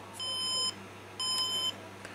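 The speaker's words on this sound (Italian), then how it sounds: "adesso però adesso mi dai i beep direttamente, 4 beep" Electronic error beeps from a computer motherboard during BIOS power-on self-test, heard as two long steady tones, each about half a second long, separated by a short gap, fairly loud over a low hum.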